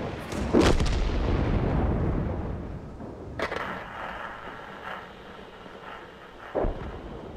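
Artillery fire in the World of Tanks video game, heard as loud booming blasts, one near the start, a sharper crack mid-clip and another boom near the end, over a constant rumbling battle din.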